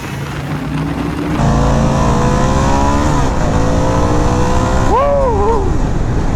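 A Harley-Davidson Sportster S on a test ride accelerates hard, its engine note climbing loud and close through rising revs, with a gear change near the end.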